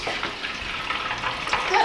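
Oil bubbles in a preheated fryer, a close, steady fizzing crackle with small pops over a short stretch.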